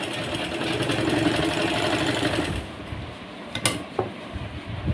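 A sewing machine runs a straight seam on a suit with a steady, rapid mechanical stitching hum for about two and a half seconds, then stops, leaving a few soft clicks and handling sounds.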